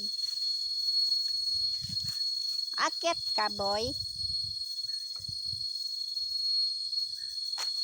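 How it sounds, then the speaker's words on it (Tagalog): Crickets chirp in a loud, steady high-pitched trill throughout, with a brief spoken phrase and a few faint rustles in the middle. "Oh, ang ingay ng ano, kuliglig."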